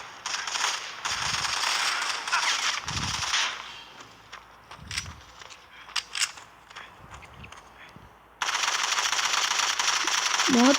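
Rapid bursts of turret gunfire from the mobile shooter game Modern Combat 5, loud and dense at the start and again near the end, with quieter thumps and short shots between; a voice talks under parts of it.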